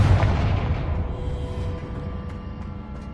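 A Confringo blasting spell bursts in Hogwarts Legacy, a loud, booming fiery blast that opens strongly and then fades into a long, rumbling decay with faint crackles trailing off.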